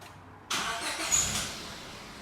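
A Honda HR-V 4x4 automatic engine catches with a sudden rush, then settles into a quiet, steady idle with a slight rise partway through.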